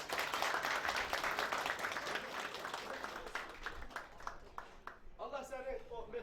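A crowd applauds the ashiq performer Aşıq Fətulla, with fairly faint, dense clapping that gradually thins out before a voice begins speaking near the end.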